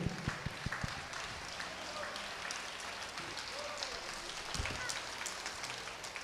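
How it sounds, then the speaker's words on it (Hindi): An audience at a school award ceremony claps for the school bus driver, sustained dense applause that holds evenly throughout with a few sharper individual claps near the start. "जोरदार तालियां हो जाए"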